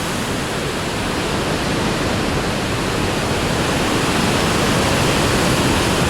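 A waterfall near Lake Como in Italy roars in a dense, loud, unbroken rush of falling water, close and steady throughout with no voices.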